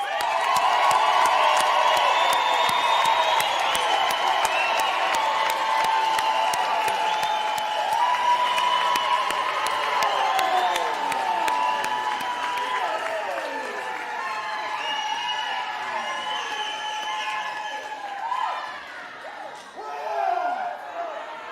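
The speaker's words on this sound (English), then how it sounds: "Can we applaud them, please?" Graduation ceremony audience applauds the graduates with steady, dense clapping throughout, overlaid by loud ululating and singing voices from the crowd.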